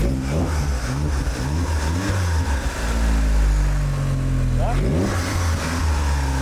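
A car engine revs hard and steadily for several seconds, rising and falling in pitch, with people talking over it; the engine had a jumped cambelt and was nearly destroyed.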